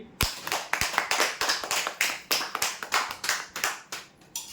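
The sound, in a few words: applause, audience clapping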